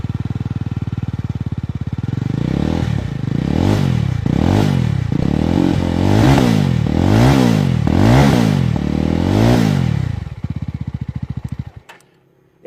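A Jawa 350 motorcycle with a 334cc single-cylinder engine and its own exhaust tune revs hard at standstill, loud and close, in a steady run of rising and falling blips over a deep rumble before the engine cuts off near the end.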